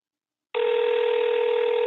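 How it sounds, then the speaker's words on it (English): An outgoing phone call rings on the line: after a brief silence a steady, continuous electronic tone starts abruptly and holds at even loudness, close and alone. "See if he answers the phone."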